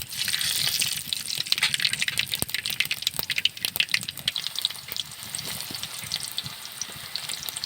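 Dry red chillies, black mustard seeds and black fenugreek tempering in hot oil for lemon rice: a loud, close, continuous sizzle full of rapid crackles and pops, with no talking.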